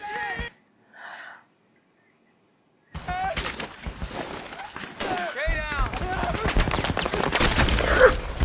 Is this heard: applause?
no